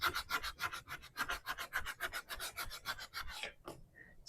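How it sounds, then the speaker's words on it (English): Hand sanding of a small thrift store item, a quick rhythmic series of close, raspy back-and-forth strokes that stops abruptly, followed by a short faint tone. "Let me give this a little sanding though."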